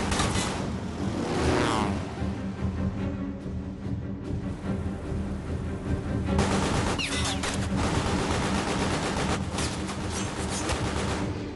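Sustained, loud bursts of rapid machine gun fire from a British aircraft strafing a surfaced U-boat rattle continuously, with heavy overlapping shots and booming impacts throughout.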